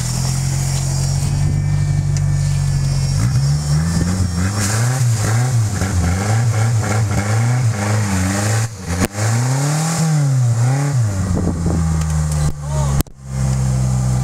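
Toyota Celica drift car with an old limited-slip differential revving hard, the engine rising and falling in repeated loud surges before cutting off abruptly, recorded close with brief voices mixed in.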